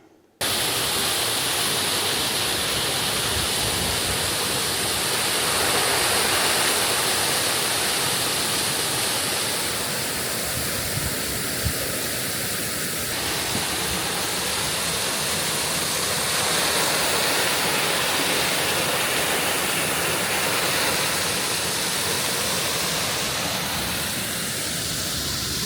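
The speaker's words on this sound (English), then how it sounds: "Now we have reached the top of the waterfalls." Waterfalls in Swaledale in the Yorkshire Dales pour in a steady, dense roar, loud and close, holding without a break for the whole stretch.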